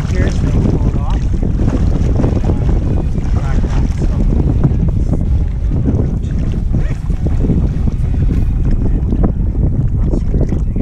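Strong wind buffets the microphone steadily and loudly throughout while paddling an inflatable stand-up paddleboard on the Sturgeon River in St. Albert, Alberta, with faint water sounds beneath and no clear talk.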